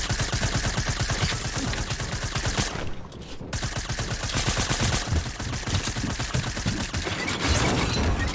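Rapid gunfire from the Fortnite video game, dense bursts of shots rattling almost continuously with one short lull, loud and close with no talk over it.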